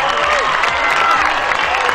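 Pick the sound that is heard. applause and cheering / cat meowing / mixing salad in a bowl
applause and cheering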